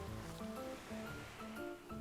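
Gentle sea waves lap at the shore beside an island in Animal Crossing: New Horizons, a soft steady wash under light game music, with no one talking.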